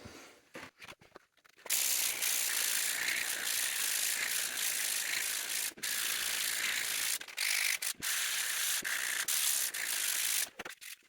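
Sandpaper of 100 grit rubs back and forth over a 3D-printed plastic actuator part, a steady close scratchy hiss running almost continuously with a few brief pauses and no talking.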